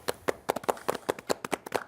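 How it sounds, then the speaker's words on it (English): A small group claps for a home audience during a 2K Sports basketball halftime show, about a dozen sharp, close hand claps in a quick, uneven rhythm over two seconds. "Clapping for yourselves."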